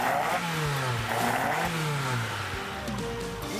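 Toyota AE86 engine idling with a lumpy, uneven rhythm, then blipped through several quick revs that rise and fall, heard close up and loud with no talking.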